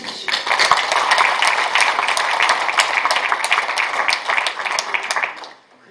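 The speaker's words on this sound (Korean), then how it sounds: "박수 쳐주시고" Audience applause at a Korean forum event welcoming a speaker, a dense steady patter of many hands lasting several seconds before fading out abruptly near the end.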